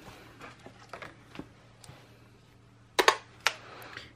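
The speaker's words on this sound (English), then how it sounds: "hear my very clicky calculator" Very clicky calculator buttons are pressed in a quick series of sharp, close taps, some light and a few louder, with short pauses between them.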